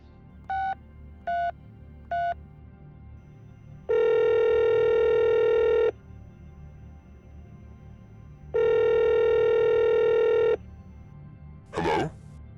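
Three short dialing tones, then two long ringback tones on a telephone line while calling someone, with a brief rustle at the end; no speech.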